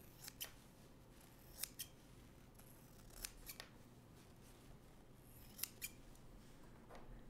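Scissors trimming around a quilt fabric block: a handful of sharp, faint snips spaced a second or so apart, close by over a low background hum.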